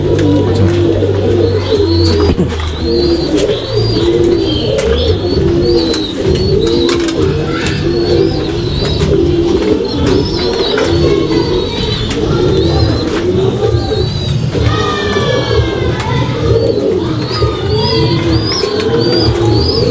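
A pair of silver barless fantail pigeons coo repeatedly in low, throaty rolls with occasional faint chirps. The cooing is close and steady throughout, with no one talking.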